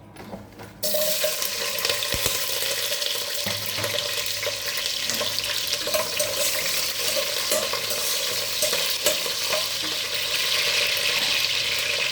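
Green chillies and onion hit hot oil in a biryani pan, starting with a sudden burst after a brief quiet moment and then holding a loud, continuous sizzle with occasional stirring scrapes.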